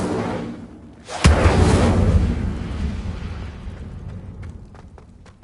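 Incendio fire spell cast in Hogwarts Legacy, a sudden whooshing burst of flame that ignites abruptly and roars loudly, then slowly fades into a crackling tail with a few faint clicks near the end.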